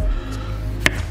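A knife strikes a cutting board once, a single crisp chop through a roasted jalapeño and tomato, over a low steady kitchen hum.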